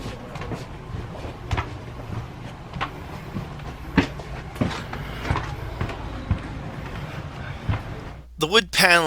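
Interior of a moving Amtrak train with Viewliner coaches: a steady low rumble of rolling wheels with recurring clicks and clunks from the rail joints, under a voice, and a louder rattling swell near the end.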